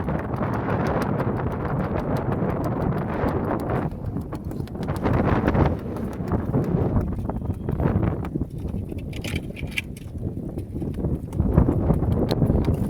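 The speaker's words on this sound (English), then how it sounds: "Big puff of wind coming up" Strong wind gusting across an open gap near a landmass, a loud continuous roar buffeting the microphone with rising and falling surges throughout.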